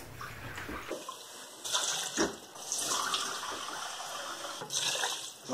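Water poured from a measuring cup into a pot of lentils for a cheese and lentil pie, a steady splashing pour with a few surges, close and fairly loud with no talking.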